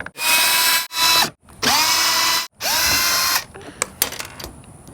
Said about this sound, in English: Our next step is to remove these 4 Phillips screws off the brake light.